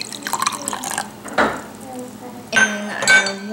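Vinegar poured into a clear glass jar while cleaning old pennies, with short dripping and splashing bursts and a couple of sharp glass clinks, close up and moderately loud; a person talks briefly at the start.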